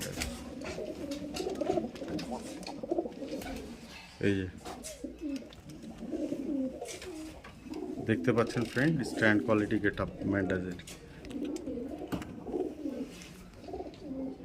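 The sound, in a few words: pigeons cooing, high-flyer Madrasi pigeons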